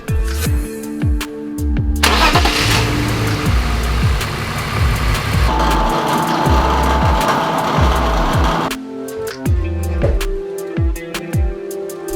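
A car engine is started and left running: rhythmic low pulses, then a louder surge as it catches and runs steadily at a fairly close distance, before settling back to a quieter pulsing idle.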